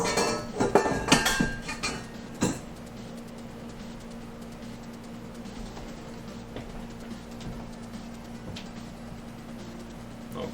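Batter of butter, sugar and eggs is mixed in a bowl for blueberry muffins, with a burst of clinking utensil strikes against the bowl early on, then a quieter stretch of faint stirring over a steady low hum.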